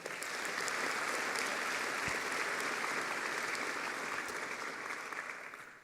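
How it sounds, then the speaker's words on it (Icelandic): Audience at a technical school graduation ceremony in Harpa applauding the graduating wallpaper hangers, dense sustained clapping from a large hall crowd at a steady level, tapering slightly at the end. "Og þá með við klappa fyrir veggfóðrurum."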